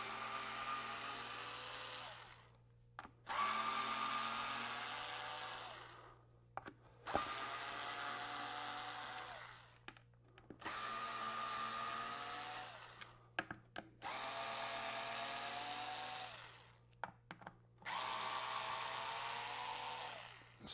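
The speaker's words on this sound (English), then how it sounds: "We're gonna take these little screws off and see what's inside here." A power drill whines in repeated bursts, removing small screws from a Bose subwoofer casing. The bursts are close and steady, each lasting two to three seconds, with short pauses between them.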